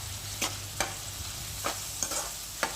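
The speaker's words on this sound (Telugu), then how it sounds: "కొంచెం వేగినాక ఉల్లిపాయలు కూడా వేసేసుకుందామండి." Green chillies and onions sizzling in oil in a pan for a soya palak bhurji, steady frying crackle broken by sharp spatula scrapes and clicks roughly every half second as they are stirred.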